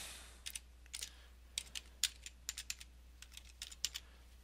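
Someone types a password on a computer keyboard: a quick, irregular run of crisp, close key clicks over a low steady hum, with no talking.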